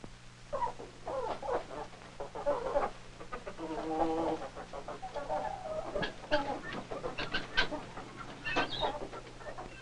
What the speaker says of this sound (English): It was time for the chickens to eat.